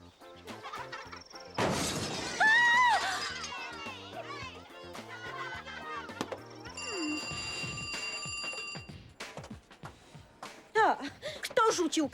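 Window glass shatters as a thrown stone breaks the pane, a sharp crash followed by scattered tinkling debris, set among children's voices and ringing bell-like tones in a dramatized scene.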